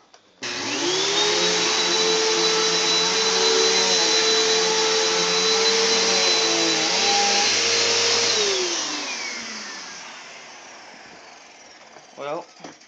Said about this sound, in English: My room hasn't been vacuumed in like 2 or 3 weeks, so let's see how much it got.